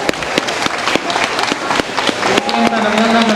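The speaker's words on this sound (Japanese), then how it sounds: "もう一度拍手を最後にお願いいたします" Applause from a crowd at an outdoor Awa Odori dance performance during a typhoon, steady clapping mixed with crowd noise and a voice speaking over it, with a faint tonal sound rising near the end.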